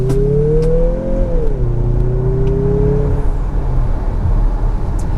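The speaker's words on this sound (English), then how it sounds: "Just a beautiful sound from the turbo engine as well." A turbocharged Mazda CX-50 of about 250 horsepower accelerates hard, its engine note climbing loud and close before easing into a steady whir as the pace settles.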